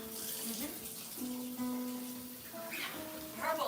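Cold water gushes from a kitchen tap into a pot for boiling eggs, a steady close rush with shifting pitch as the vessel fills, under faint background talk.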